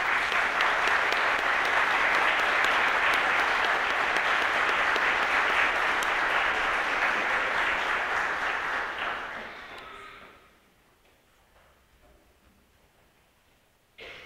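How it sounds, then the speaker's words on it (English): Loud, sustained audience applause at a Central York Fire Services graduation ceremony fills the room for about ten seconds, then thins out and fades to near silence before a brief final burst. "I guess we could all clap now."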